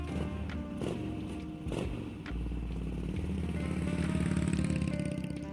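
A motorbike starts off and pulls away, its engine rumble rising and holding steady after a few clattering knocks and footstep-like thumps, fairly close and loud.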